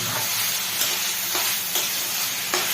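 Pumpkin leaves and shrimp frying in a pan make a loud, constant hiss, with a few soft stirring strokes rising over the sizzle.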